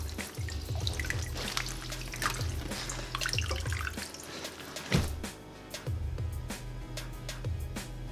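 Running tap water rinsing kimchi in a sink, a steady close splashing stream with drips and light handling sounds, fairly quiet and without talk.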